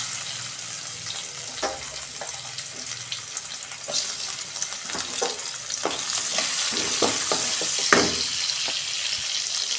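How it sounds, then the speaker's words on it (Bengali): A bay leaf, cumin, sugar and cardamom frying in hot oil in a kadai for katla fish kalia, giving a continuous close sizzle that builds gradually, with a few sharper clinks and spatters. "ওই কড়াতে আমি একটা তেজপাতা দিচ্ছি, জিরে দিচ্ছি, চিনি আর এলাচ"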